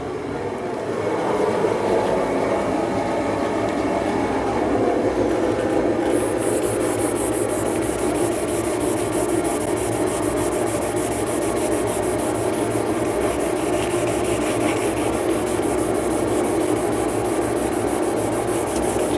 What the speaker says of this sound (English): Just getting in locally and sanding the high spots off with a bit more local pressure.